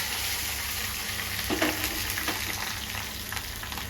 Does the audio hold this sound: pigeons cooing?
no